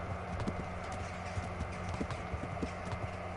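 Rhythmic clip-clop of horse hooves at a steady trotting pace in the video game Kingdom Come: Deliverance, fairly close, with a low background hum and no talking.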